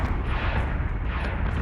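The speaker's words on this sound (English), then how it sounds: "Missiles incoming!" Incoming missiles blowing up in a space combat video game, a continuous dense roar of blasts and rumbling explosions filling the short moment, loud and close with no clear gaps between impacts.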